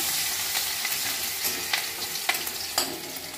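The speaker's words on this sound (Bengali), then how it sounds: "রসুনটা একটু লাল লাল করে দিয়ে নেব।" Chopped garlic with a dried red chilli fries in oil in a pan for a red spinach dish, giving a continuous close sizzle broken by a few sharp stirring scrapes and clicks, with no talking.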